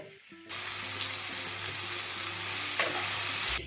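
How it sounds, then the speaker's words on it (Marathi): Tomato masala with chilli powder and pepper sautéing in a pan over a high flame, a loud continuous sizzle beginning abruptly after a brief stir and carrying steadily to the end, with no talk. "एखादा मिनिट परतून झालं आहे खूप आपण परतत नाही आहे त्याला गॅस पण बारीक केलेला नाही आहे हे सगळं हाय फ्लेमवर चाललं आहे"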